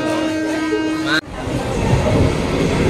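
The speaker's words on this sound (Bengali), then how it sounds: "ট্রেন এসে গেল।" A train rumbles in loudly, steady clattering roar after a tonal horn-like whine that cuts off abruptly; constant rolling noise dominates.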